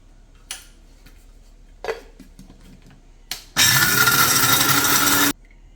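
A mixer grinder jar powders dry fruits in a sharp, loud whirring burst lasting under two seconds, after a few light clicks and knocks as the jar is handled.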